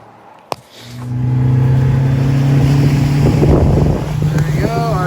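An outboard engine on a 2018 SmokerCraft Pro Lodge fishing boat starts after a sharp click and settles into a loud, steady idle with a constant low hum, with a faint voice near the end.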